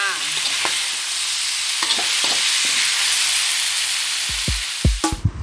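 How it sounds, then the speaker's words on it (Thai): Stingray pieces are stir-fried in a hot pan for a spicy Thai stir-fry, giving a loud, steady sizzle with scattered clinks and scrapes of the spatula that grow busier near the end. "ผัดชาปลากระเบนค่ะ"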